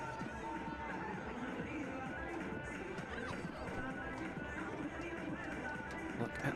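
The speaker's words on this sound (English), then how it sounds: "Look at the good crowd." A soccer crowd at an FC Tucson stadium match produces a continuous, distant wash of chatter and murmur, steady throughout without distinct cheers.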